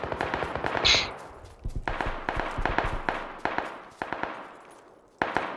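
Gunfire in PUBG: sharp shots crack in irregular bursts and single reports at moderate distance, with short pauses between volleys and one final shot near the end.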